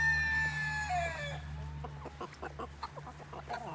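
Backyard chickens cluck and crow near a farm pen where turkeys and chicks are also kept, a rooster's long call first, then a run of short, choppy clucks.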